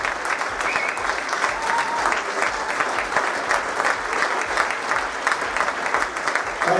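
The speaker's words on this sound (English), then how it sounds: "I think that this individual deserves a standing welcome and round of applause" A standing ovation at a Christmas banquet, a crowd clapping in a dense, steady wash of applause that holds at even loudness throughout.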